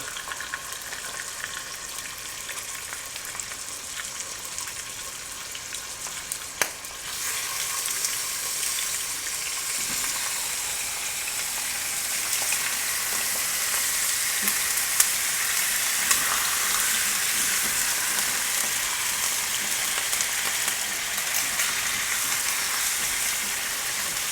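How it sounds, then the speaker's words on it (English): Chicken for adobo sears in a hot pan with a steady, bright sizzle that crackles for the whole stretch. There is one sharp clatter near the start and a few pops later, with no talk. "So we're gonna sear the chicken."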